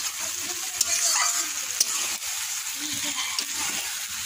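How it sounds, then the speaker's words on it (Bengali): Chicken sautés in a hot pan and is stirred, giving a steady close sizzle broken by scraping strokes of the spoon, with no talk. "আধা ঘন্টা ভালোভাবে কষিয়ে নেব।"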